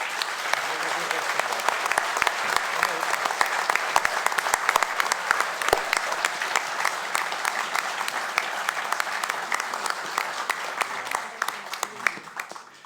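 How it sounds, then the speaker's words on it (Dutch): A theatre audience gives long applause at the close of a revue. The clapping is full and continuous with scattered loud claps and faint voices mixed in, and it thins out toward the end. "een applaus voor al diegenen die dat werk gedaan hebben"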